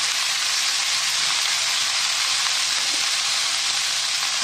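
Oil sizzling steadily in a hot pan, a dense, even, loud hiss up close with no breaks.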